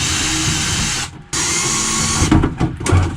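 A power drill or driver removes screws from an old air conditioner unit in a 6x6 vehicle, a loud close whine that stops briefly, restarts, then breaks into short uneven bursts.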